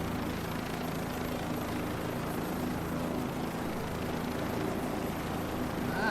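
A helicopter in Microsoft Flight Simulator 2024 drones steadily with a constant rotor and engine hum, holding an even level throughout with no talk.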